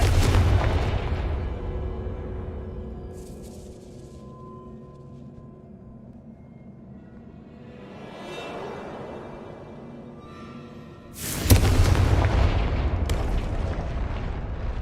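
A Confringo blasting spell going off in Hogwarts Legacy, a loud sudden boom late on with a crackling, rumbling decay, after quieter game ambience and a softer whoosh earlier.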